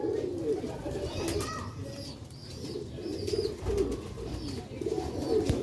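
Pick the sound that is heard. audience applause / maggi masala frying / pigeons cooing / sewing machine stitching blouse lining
pigeons cooing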